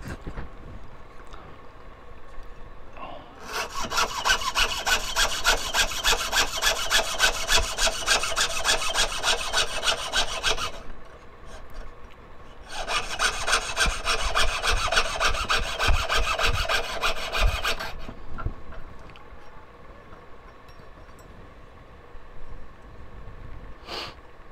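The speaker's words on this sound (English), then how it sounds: "I started out with a hacksaw and I just took a hacksaw to it" A hacksaw cuts pendants out of a workpiece in two long bursts of steady, rapid back-and-forth rasping, close and fairly loud, with a quiet pause between them and light handling noises around.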